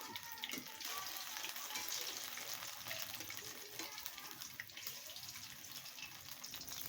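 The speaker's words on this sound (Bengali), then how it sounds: "মাছটা আবারও আমি উল্টে পাল্টে ভালো করে মাছটাকে ভেজে নিই" Steady, dense sizzling of fish frying in oil continues close up throughout, with a faint hiss and a few brief spits rising above it.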